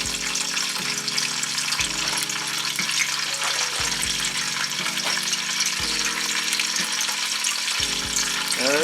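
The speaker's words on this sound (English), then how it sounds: "the ghee is melting here" Ghee melts and sizzles in a pot, a steady bubbling fry with regular stirring scrapes, close and fairly loud with no voices.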